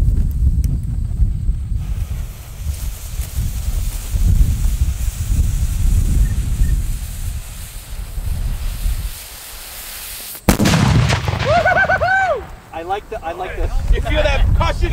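A homemade explosive detonates outdoors with a single sudden, loud blast partway through, following wind rumble and brief talk, then whoops and cheering voices rise right after the boom.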